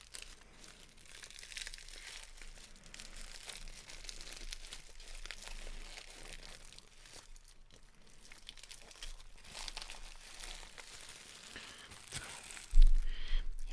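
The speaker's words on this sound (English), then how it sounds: "why are you opening this so meticulously? How come you don't just take it right out of the packaging?" Plastic food packaging around a Canadian donair is opened slowly and carefully, with steady close crinkling and rustling throughout and a sharper tearing burst near the end.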